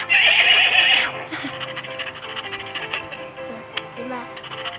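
A cartoon horse neighs loudly in a Western cowboy setting with the Pink Panther, a bright shrill whinny in the first second, followed by busy background sound effects and music under voices.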